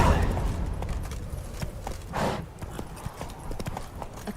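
Roach the horse in The Witcher 3 trotting with crisp, rapid hoofbeats close by, a brief whinny-like swell midway and a voice speaking over the steady clatter.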